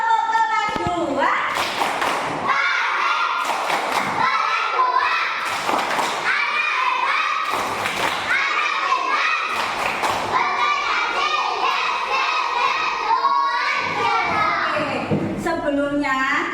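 Classroom of schoolchildren doing a rhythmic class clap, loud sharp hand claps in patterned bursts interleaved with children chanting together in unison.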